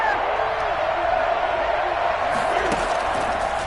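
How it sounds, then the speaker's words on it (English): Stadium crowd noise from the Madden 22 football video game, a steady, loud roar of cheering fans with no break as the Patriots face a big third down late in a close game. "the crowd getting into it as we come up on a big 3rd down"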